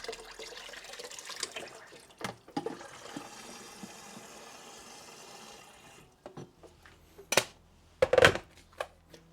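Water runs steadily into a big pot for several seconds, then stops, followed by a few sharp knocks and clatters near the end.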